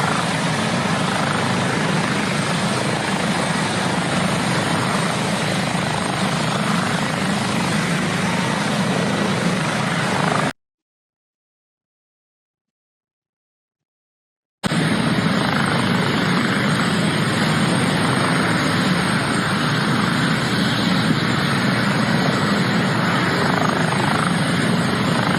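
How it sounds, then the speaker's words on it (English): Steady helicopter rotor and engine roar, loud and continuous, cut by a few seconds of silence before the same drone resumes. "A helicopter, Jerry? Really? A helicopter?"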